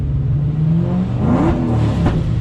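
A supercharged Ford Mustang GT is revved to about 3,000 RPM with throttle and clutch work, giving a steady, loud, close engine drone that rises briefly in pitch mid-clip.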